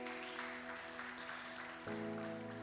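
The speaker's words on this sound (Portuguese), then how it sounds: "Aplauda o teu Deus se você crê nisso" A church congregation applauds during a worship service, soft, distant clapping blended under sustained keyboard chords that shift to a new chord partway through.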